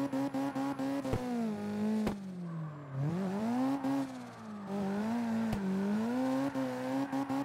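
In the CarX Drift Racing video game, a car engine on the Tsukuba Fruits Line course drones steadily, rising and falling with throttle through drifts, broken by several brief sharp gear-shift clicks.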